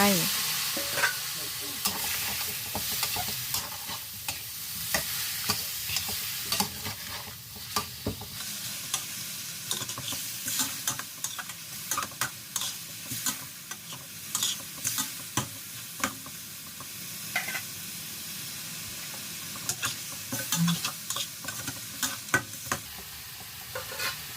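Steady sizzling of free-range chicken stir-frying with curry paste in a pan, punctuated by frequent scraping and clacking of a utensil stirring, with no voices.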